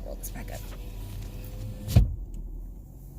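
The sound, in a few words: car power window rolling up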